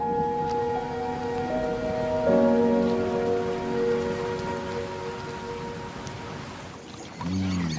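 Steady rain patters on a surface, a soft continuous hiss with tonal hum underneath, ending with a brief low sound.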